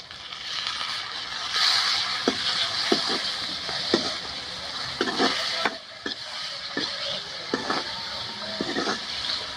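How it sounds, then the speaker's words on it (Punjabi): Tomatoes with turmeric and other spices fry in a pan for a vegetable masala Maggi, giving a steady close sizzle broken by repeated light knocks and scrapes of a spoon stirring. "ਟਮਾਟਰ ਪਾਉਣ ਤੋਂ ਬਾਅਦ ਥੋੜਾ ਜਿਹਾ ਆਪਾਂ ਟਮਾਟਰ ਨੂੰ ਭੁੰਨ ਲਿਆ"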